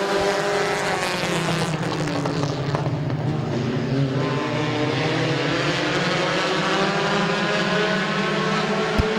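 Compact race cars roar together in an 8-lap heat race at Midvale Speedway, a loud, steady engine drone with overlapping revving tones holding throughout, no talk.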